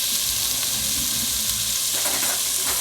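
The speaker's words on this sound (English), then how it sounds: "just get the celery, onion, carrot. Get it going in the pan. Turn the heat up just a tad." Celery, onion and carrot frying in a pan over slightly raised heat for osso buco, giving a dense, loud, unbroken hiss and sizzle close up, with no speech.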